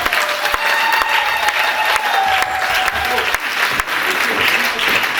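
Congregation in a church service breaking into sustained, loud applause that fills the room with dense, steady clapping and some cheering, close and continuous.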